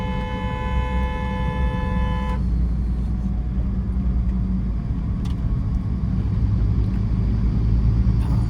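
A car horn held in one long steady blast for about two seconds during a driving lesson on a narrow road, then cut off, leaving the car's continuous engine and road rumble.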